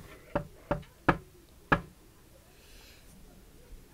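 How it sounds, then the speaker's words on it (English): Four sharp knocks on the door of a toy Pontipines house from a wooden toy playset, quick and close, spaced unevenly, with quiet afterward. "Let's give the door a little knock."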